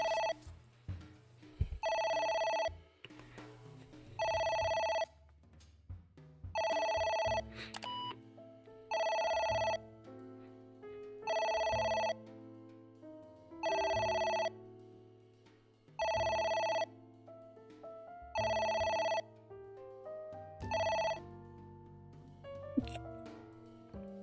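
Telephone bell from the video game Ai: The Somnium Files rings in repeated electronic bursts, nine or so evenly spaced rings over steady background music, loud and close, with a brief voice near the start.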